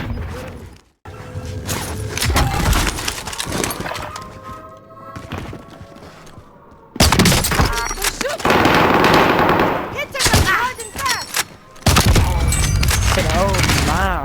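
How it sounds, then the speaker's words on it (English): Heavy Call of Duty: Warzone gunfire blasts loudly in rapid machine-gun bursts and single shots, with brief pauses between volleys and voices talking over parts of the action. "Under heavy fire here!"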